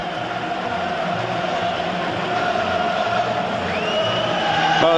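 Large football stadium crowd at a UEFA match between Atletico de Madrid and Leicester City, a steady distant roar of thousands of fans that swells slightly toward the end, with faint chanting and whistles.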